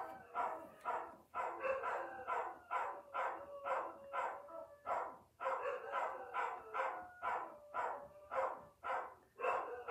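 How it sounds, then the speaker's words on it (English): Several dogs bark continuously and rapidly, with overlapping yaps and bow-wows filling the whole stretch at a moderate distance, with no pause in the barking. "So it's just me and the barking dogs."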